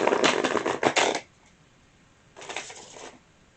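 A quick riffle of tarot cards being shuffled, then a pause and a second shorter shuffle, close and crisp with no talking.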